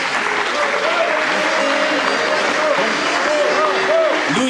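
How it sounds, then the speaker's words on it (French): Steady applause for the musicians at a club's 40th-anniversary celebration, a dense crowd clapping continuously and loudly throughout, with a few voices and cheers mixed in. "Un grand applaudissement pour mes musiciens"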